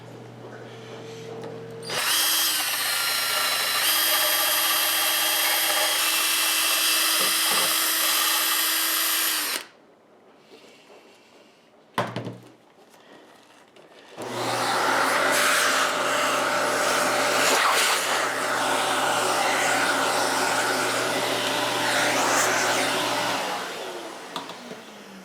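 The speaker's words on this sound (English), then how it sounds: "finish this off with a little bit of sandpaper from a Dremel tool" A Dremel rotary tool with sandpaper whines loudly on an Epiphone SG guitar body in two long bursts separated by a pause with a brief clatter.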